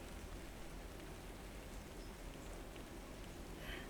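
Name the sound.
heavy rain beating on cobblestones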